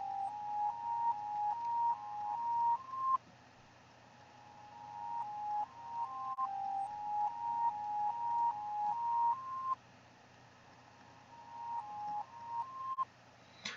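A thin, quiet melodic loop with swelling, backward-sounding notes that fade in and cut off abruptly, repeating in a steady pattern.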